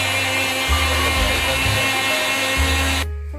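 An electric kitchen grinder blends bread slices with milk, a loud, steady close whirring that runs continuously for about three seconds and then cuts off abruptly.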